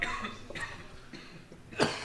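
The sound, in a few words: coughing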